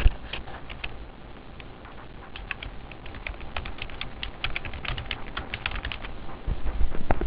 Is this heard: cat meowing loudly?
no